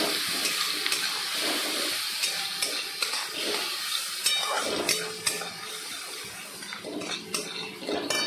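A spice mix with sugar and salt fries in a pan while a spoon stirs and scrapes it, giving soft sizzling broken by repeated clinks and knocks of utensil on metal. No voices are heard.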